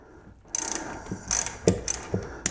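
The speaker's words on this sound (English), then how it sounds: "I'm going to release one of these bolts" Ratchet wrench loosening a bolt on a residential garage door spring, a quick series of close, crisp clicking bursts with short pauses between strokes, no talking.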